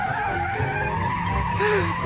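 A dog's vehicle skids after its brakes fail, producing a continuous loud scraping screech with a faint rising squeal near the end, heard alone without talk over it.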